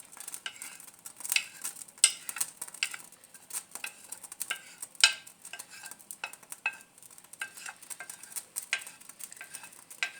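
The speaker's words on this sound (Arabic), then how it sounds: "بعد ما درنا هاد الزيت هادي تسخن في المقلاة غادي نضيفو لها هنايا واحد 4 تاع البصلات متوسطين" Four medium onions hit hot oil in a frying pan, giving a faint, steady sizzle broken by scattered clinks and scrapes of a utensil stirring against the pan, with no talking.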